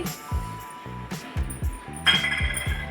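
Mustard seeds poured into a mortar for grinding a mango pickle spice mix, producing a pattering, clinking rattle in several short bursts, close and fairly loud.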